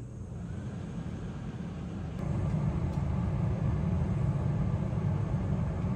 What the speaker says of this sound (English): My blower motor is running.